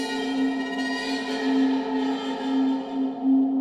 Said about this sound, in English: we can make the left hand play a drone, and the right hand, for example, playing a metal transition